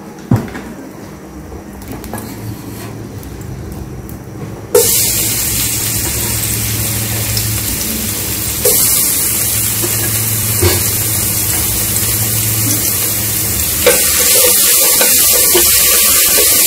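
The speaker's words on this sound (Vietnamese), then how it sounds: "Giờ mình sẽ cho cái nồi vào mình cháy cái phần hành tỏi cho nó thơm nha." Shallots and garlic frying in a pot: a quiet start gives way to an abrupt, steady sizzling hiss that grows louder in a few steps and carries on without speech.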